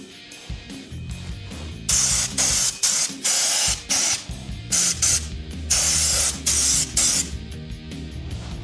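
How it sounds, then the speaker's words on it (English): Cavity wax sprays in repeated hissing bursts over a BMW E46 Touring, each blast lasting under a second with short pauses between, close and loud with faint mechanical clicks in the gaps. "I feel like I'm spraying Pepto-Bismol all over the car."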